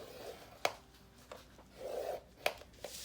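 Cardstock scored with a scoring tool gives a faint, close scrape of about half a second between a few sharp taps and clicks.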